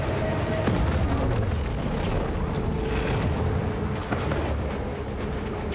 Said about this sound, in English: Bet you didn't think I had torpedoes.